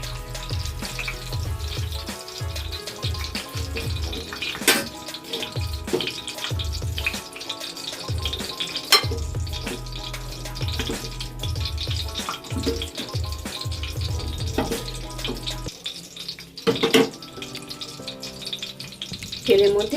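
Battered chicken satay pieces frying in hot oil, a steady bubbling hiss that runs throughout beneath a loud rhythmic music track with a strong beat.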